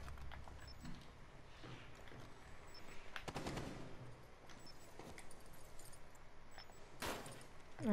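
Video game gunfire in a team shootout, with scattered bursts and single shots at moderate distance and a sharper, louder volley near the end.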